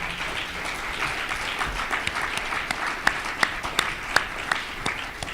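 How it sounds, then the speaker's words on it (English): An audience at a student presidential debate applauds the candidates, a broad wash of clapping with several sharper individual claps standing out toward the end. "Let's give these gentlemen a round of applause for their first round."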